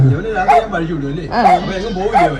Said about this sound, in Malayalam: വിളിക്കുന്നത് അത് പട്ടികള്.